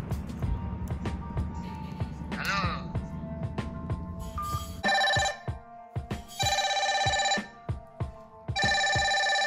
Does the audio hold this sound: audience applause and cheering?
no